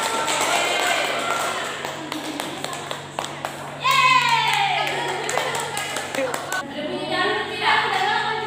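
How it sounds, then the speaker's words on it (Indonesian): Scattered clapping from a group, loose and uneven, mixed with children's voices and chatter in a classroom. "Kelompok satu, tepuk tangan untuk kelompok satu."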